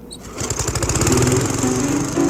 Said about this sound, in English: I think I'm gonna start mowing the lawn.